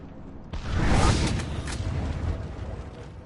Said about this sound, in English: Oh, hey, the fire explosion is pretty